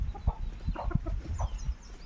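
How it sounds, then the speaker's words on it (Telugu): Free-ranging country chickens, roosters and hens, cluck and murmur close by in short, irregular bursts over a low outdoor background, with no talking. "ఈ పుంజులు పెట్టలు అన్నీ."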